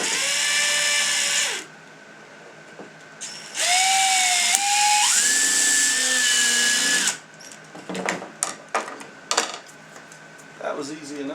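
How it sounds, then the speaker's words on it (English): A loud power drill whines and revs in sustained bursts, its pitch shifting as it bites through metal, followed by clattering and scraping of parts. "We're going to drill another hole straight through it."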